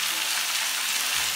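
Chicken pieces dropped into hot oil in a heated clay pot with garlic, ginger and shallots, giving a loud, steady hissing sizzle that swells slightly at the end.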